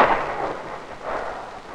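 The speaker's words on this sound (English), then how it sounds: "Close to the burst, this is felt and heard as a sharp crack, similar to the noise of a field gun." A nuclear blast shock wave arrives as a sharp crack that gives way to a loud, rolling rumble like thunder or artillery fire, heavy and sustained, with no voices.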